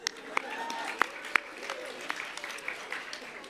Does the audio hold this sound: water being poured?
no